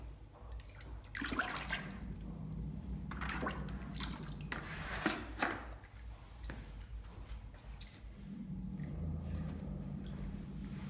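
Liquid pottery glaze poured into the inside of a vase, giving a continuous wet trickling and sloshing with a few splashy surges, close and moderately loud, with no talking.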